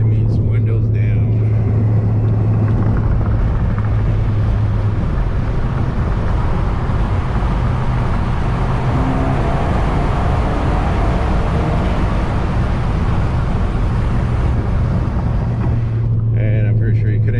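A Ford Focus ST drives through a tunnel with its windows down, filling the cabin with a loud, steady roar of wind and road noise over a low engine hum from start to finish.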